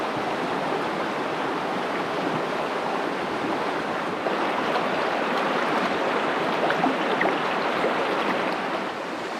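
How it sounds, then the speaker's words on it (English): Icy fresh mountain creek water in the Victoria High Country flowing steadily, a broad, constant rushing hiss that stays close and unbroken from start to finish, with no voices. "Listen to that sound. Fresh water straight off the mountain."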